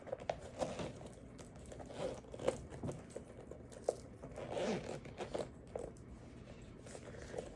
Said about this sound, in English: And let me go ahead and zip it up.